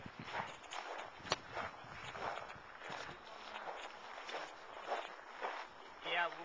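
Slow, irregular hoof clops from a horse walking, moderately close, with low chatter and rustling in the background.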